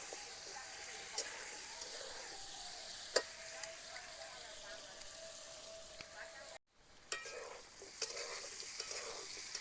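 Carrot and potato pieces fry in oil with turmeric and salt, giving a constant soft sizzle with occasional stirring clicks and a brief break in the sound partway through.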